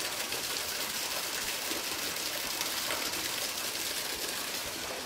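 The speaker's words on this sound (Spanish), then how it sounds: "Aquí se escucha agua" Water falls steadily from a fountain at Hacienda Santa María Regla in Huasca, a continuous, fairly loud rushing and splashing that stays even throughout with no voices.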